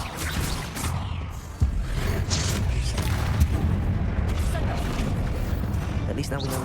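Bombarda spell explosions in Hogwarts Legacy, a sudden deep boom followed by rumbling blasts and whooshes, loud and dense, with a voice casting spells over them.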